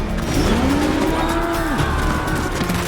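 Loud, close mooing call of a Gekko robot from Metal Gear Solid 4, a single drawn-out bovine-like bellow that bends downward in pitch, over continuous game background noise.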